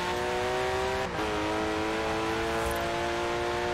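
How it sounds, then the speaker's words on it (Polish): Porsche engine in Forza Horizon 4 with a non-standard engine sound, a loud sustained high drone with a quick gear-change dip about a second in, then holding pitch steadily. "To nie jest standardowy dźwięk tego auta"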